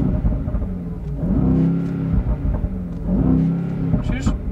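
A 2022 Brabus 900 Rocket Edition G-Class with a tuned 900 hp engine idles in the snow, then revs up twice in rising and falling surges, loud and close, with a few light clicks near the end.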